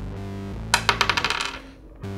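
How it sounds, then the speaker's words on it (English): Several dice tumble onto a hard surface in a quick run of clattering bounces that speed up and fade within about a second. A steady low hum sits underneath. "we need to roll all of these dice a lot"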